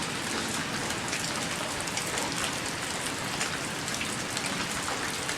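Steady rain falling and pattering on surfaces, a dense continuous hiss with no breaks, heard alone at moderate level with no voices.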